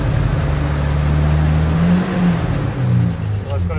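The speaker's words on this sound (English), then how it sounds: "Here's reverse. Nothing. Rev up." A car engine revs steadily while the driver tries to get it into reverse, a loud low rumble that swells and dips. A person talks over it.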